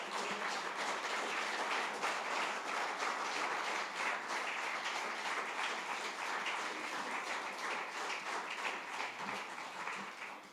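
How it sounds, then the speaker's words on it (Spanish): A church congregation claps steadily for God after a prayer, a dense, sustained wash of applause held at an even level for about ten seconds and fading slightly at the end. "Démosle un aplauso al Señor"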